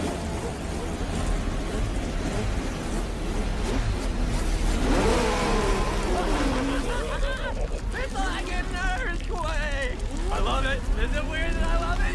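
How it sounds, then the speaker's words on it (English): Race car engine in the animated film Turbo roaring up and revving at the start of the Indianapolis 500, loud and continuous with rising whines, mixed with crowd noise and voices. "start your engine!"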